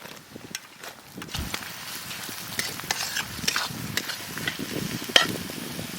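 Onion, capsicum and green chillies sizzle in a pan during stir-frying for egg chicken fried rice at a riverside village picnic, with a soft steady hiss under scattered scraping and stirring clicks of a utensil.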